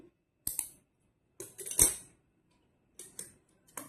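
Scissors snipping through blouse fabric, a few short crisp cuts in separate bursts with quiet pauses between, close and fairly clear.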